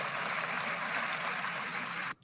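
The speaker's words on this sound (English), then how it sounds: "And we clapping for him. You hear that" Audience applause for a Bill Clinton speech, a steady, even wash of clapping from a large crowd that continues throughout and cuts off abruptly at the end.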